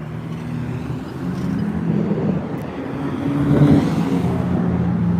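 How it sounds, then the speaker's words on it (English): A truck passes on a Chicago city street with a deep engine rumble that swells to a peak and then holds steady amid general traffic noise, with no speech. "I see a truck coming over there."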